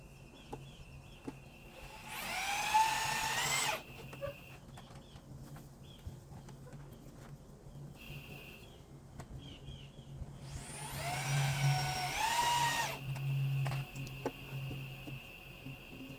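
A power drill drives the last two screws while installing a pitcher pump on a rain barrel, two separate whirring bursts of about two seconds each, near and fairly loud, with a quiet pause between them.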